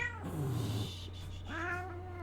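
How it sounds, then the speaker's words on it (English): A real cat meows twice, close and moderately loud, with a steady low hum underneath. "Hold on, I'm handling a cat."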